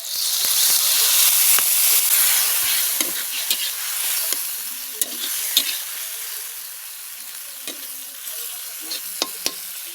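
Water poured into masala frying with red chilli powder for a river small-fish curry, a steady close sizzle that slowly fades, broken by sharp scrapes and taps of stirring.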